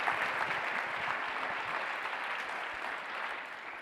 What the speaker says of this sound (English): So let's give a round of applause for the work that you're doing.